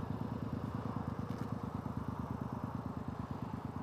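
A 2014 Triumph Speedmaster motorcycle idles in neutral, a steady close-up low pulsing thump with an even rhythm, running alone without talk.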